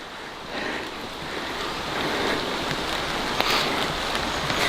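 Steady rain in Kingdom Hearts III hisses continuously, a broad, even wash of sound that swells slightly with occasional faint patters, with no talking.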